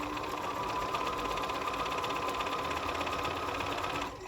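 A sewing machine stitches a quilt block in one continuous fast run, a close, steady mechanical whir with rapid rhythmic needle chatter that stops abruptly at the end, with no talking.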